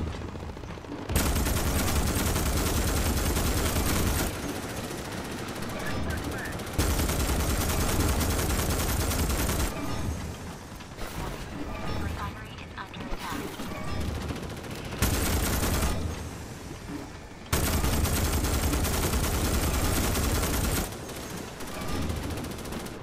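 Heavy automatic gunfire roars against bugs in a video game, loud sustained bursts of several seconds each, broken by short pauses and dips into quieter stretches.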